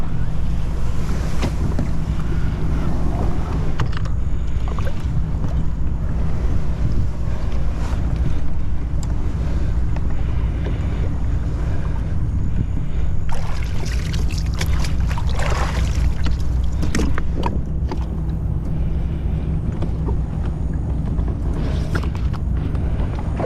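Waves washing and sloshing around an Old Town Sportsman PDL 120 pedal kayak as it is dragged into deep water, with constant wind buffeting the microphone and splashy surges throughout, loud and close with no talk.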